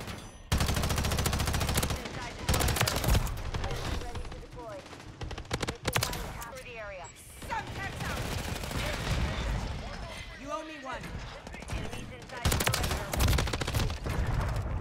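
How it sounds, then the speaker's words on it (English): BAL-27 rifle fire in the video game Call of Duty: Modern Warfare III: rapid automatic bursts crackle repeatedly throughout, dense and loud, mixed with other in-game gunfire and effects. "I can't see what I'm shooting at there."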